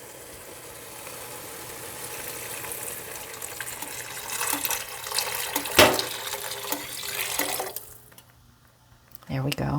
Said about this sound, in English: I'm going to add my broth.